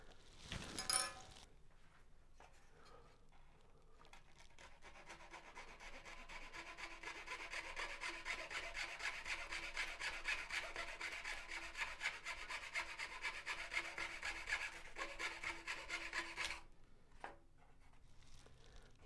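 Foam wing of a Carl Goldberg Ultimate 10-300 model biplane being hand sanded, a long stretch of close, steady rubbing and rasping strokes that start and stop abruptly, with soft handling knocks before and after.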